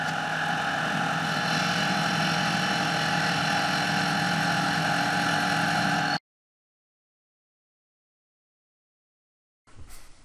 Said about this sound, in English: I will first turn off a small amount off the surface of the aluminum bar to obtain a smooth, round surface